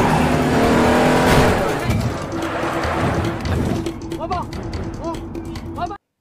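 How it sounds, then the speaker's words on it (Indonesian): Speeding cars in a tense chase roar and rev loudly, with tires squealing and engines surging close by, as voices speak over the din before it cuts off abruptly. "Lalu aksi kejar-kejaran pun terjadi dan cukup menegangkan."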